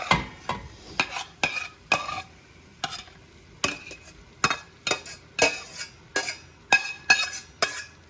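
A utensil scrapes and stirs chili ingredients in a pot on medium-low heat: a dozen or more sharp, rhythmic strokes with light clinks against the pot, over a soft background sizzle.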